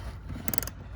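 A wrench tightens a bolt on an Acura RDX strut (2013–2018 model), giving a brief, faint metallic ratcheting click burst lasting a fraction of a second.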